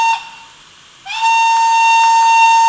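A model steam locomotive's electronic siren, on a model of the Br 55 / FS Gr.460, sounds: a brief tone, a short dip, then a higher, steady whistle held loud and clear.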